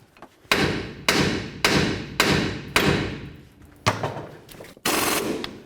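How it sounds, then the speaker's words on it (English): Sharp metallic hammer blows strike the lower control arm of a 2004-08 Ford F-150 one after another, about seven heavy strikes with brief ringing decay between them, close and loud. "Hit right on the lower control arm with your hammer a couple times just to cause vibration"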